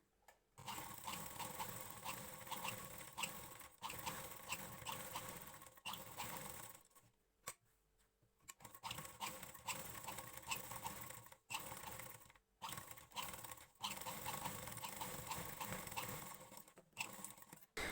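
A domestic sewing machine stitches lace onto a blouse in quick motor-driven bursts of rapid needle clatter, with two short pauses between runs and no talk.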